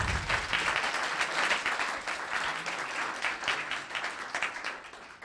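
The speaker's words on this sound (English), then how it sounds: "So everybody give Noah a round of applause." A town council chamber audience applauds a young honoree, a full burst of clapping that starts strong and tapers slightly toward the end, heard alone without talk.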